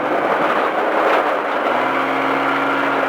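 Off-road stadium truck engine held on throttle, a loud continuous roar with broadband grit and a steady tone settling in partway through, no talking.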